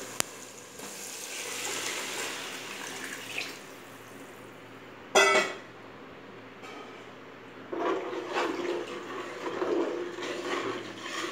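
Water is poured into a pot of cooked vegetables for a vegetable biryani, giving soft splashing and gurgling in intermittent bursts, with a short sharp splash midway and a longer pour near the end.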